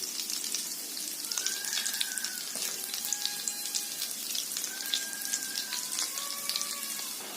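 Vegetable cutlets fry in hot oil with a dense, steady crackling sizzle, close and continuous, with a few faint tonal whistles over it.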